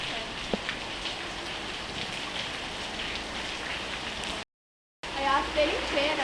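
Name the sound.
rain dripping through leaking roof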